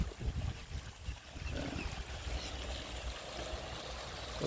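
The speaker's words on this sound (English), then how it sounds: "Water comes out of this here." Water trickles steadily from an outlet at a sanctuary, a faint, continuous flowing wash with no talk over it.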